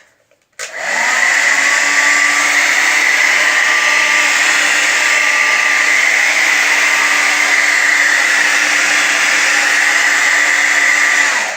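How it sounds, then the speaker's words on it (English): A hair dryer on its cold setting switches on and blows steadily with a loud, constant whooshing hum that continues without change until the end. "And I do this on the cold setting of my blow dryer so it dries faster."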